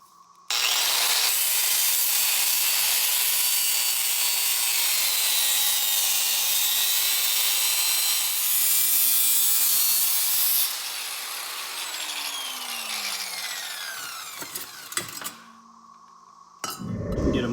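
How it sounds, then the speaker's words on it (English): A power tool cuts open an Arctic Cat 400 ATV muffler, giving a loud, harsh, continuous grinding whine that eases off partway through, followed by a few clinks and knocks. "what I'm gonna do is actually cut the muffler open and maybe remove some of the baffles"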